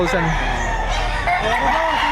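Roosters offered for sale at a Batangas market crow and cluck nearby, the calls rising over a constant murmur of voices and a low hum.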